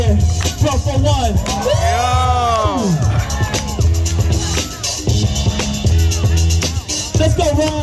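A loud crowd whoops, shouts and cheers at an East Bay street dance battle, with steady thumping music underneath and an MC hyping the audience over the din.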